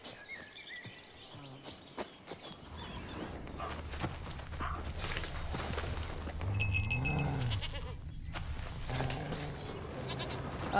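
Goat bleating in The Witcher 3 game world, a few distinct bleats rising out of ambient outdoor game sound with footsteps and rustling, moderately close, no talk.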